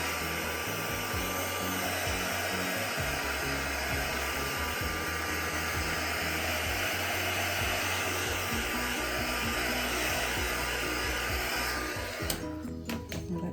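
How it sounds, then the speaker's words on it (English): A heat gun blows steadily over inked paper on a journal tag, a loud, continuous close-up roar that cuts off near the end. "grab my heat gun and give this a bit of heat to try and set it all properly"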